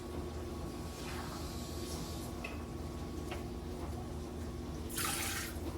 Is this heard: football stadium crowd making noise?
no